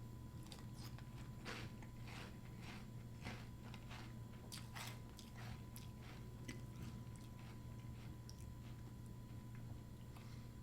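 Cap'n Crunch Berry cereal being chewed, a steady series of crisp crunching bites close to the mouth over a constant low background hum, with no talking.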